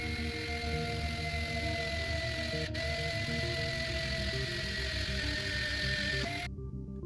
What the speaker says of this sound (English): This is a visual of the clutch actuator working at 4 times speed, and you can also hear the motor working as well during a startup.